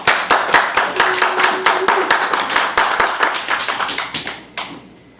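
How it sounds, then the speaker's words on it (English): Clapping for a magic show's volunteers rings out in a steady run of sharp, separate claps, fairly close and loud, thinning out near the end. "A round of applause for my lovely,"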